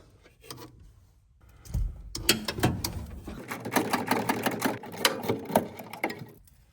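A ratchet backs out a single 10 mm bolt from a notchback wiper assembly, making rapid, close metallic clicking in uneven bursts between short pauses.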